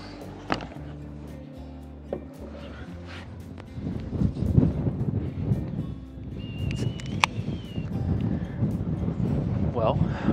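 Strong wind buffets the microphone with rumbling gusts on a converted school bus roof deck, loud and uneven, and a person talks through part of it.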